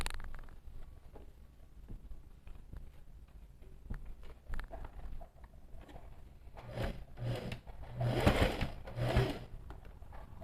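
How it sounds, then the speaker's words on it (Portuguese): A sewing machine runs quilted X-shaped seams through outer and lining fabric layers, a faint, close, uneven mechanical patter of stitching with short bursts that grow louder near the end. "E agora eu vou passar uma costura seguindo essas 2 linhas que eu fiz aqui"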